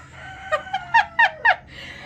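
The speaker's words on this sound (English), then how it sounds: "I knew I heard chirping." A farm hen gives a run of five short, bright clucking calls close by with a quieter chirp-like tone beside them, the calls rising in loudness then fading into soft background noise.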